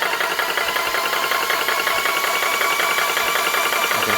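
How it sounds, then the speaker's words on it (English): A Vevor 4500 psi auto-stop AC/DC PCP air compressor runs just after starting up, a loud, steady mechanical drone with a fast pulsing rattle and a whining tone, close up and continuous with no talking. "let's go ahead and start up our compressor"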